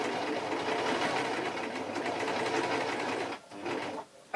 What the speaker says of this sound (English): So now all I'm going to do is sew these two bits of taffeta together.